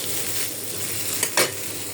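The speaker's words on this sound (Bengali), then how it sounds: "কারকল ভাজা বসাই দিলাম ভর্তা বানানোর জন্য।" Teasel gourd frying in a pan for a mash, a steady close sizzle with stirring scrapes and two brief louder bursts near the end.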